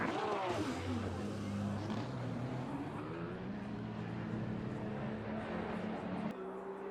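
Aston Martin GT race car in a sim racing game, its engine droning steadily with rising and shifting tones for several seconds, loud and close, cutting out briefly near the end.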